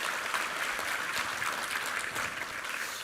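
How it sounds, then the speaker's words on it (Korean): Congregation applause at a Korean church Sunday service for a building-fund pledge day, a steady dense wash of many hands clapping throughout, fairly close and even in level. "우리 하나님께 감사와 영광의 박수 올려드리겠습니다"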